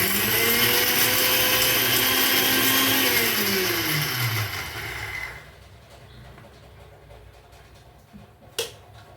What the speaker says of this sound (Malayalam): ഇനി നമുക്ക് മിക്സിയിൽ കുറച്ച് വെള്ളം ഒഴിച്ച് അത് അടിക്കാം